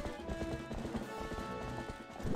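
Horse hooves galloping while riding in the video game Zelda Twilight Princess HD, a quick steady clip-clop rhythm over game music, close and clear.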